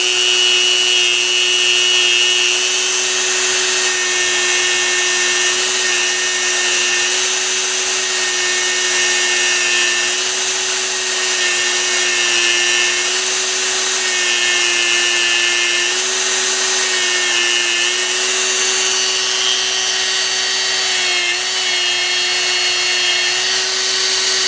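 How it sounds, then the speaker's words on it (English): A stainless steel wire brush, probably power-driven, roughs up a shotgun firing pin for a silver-solder repair, giving a loud, continuous whirring whine held at a steady pitch throughout, close by and without speech. "So I've got this wire brush, stainless steel. I'm just going to rough that up a little."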